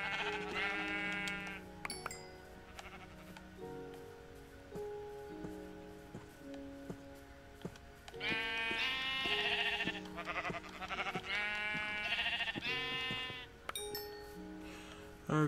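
Sheep in the video game Minecraft bleat in several bursts, a few spaced calls early and then a louder, close cluster of repeated bleats, over a steady, quieter backdrop.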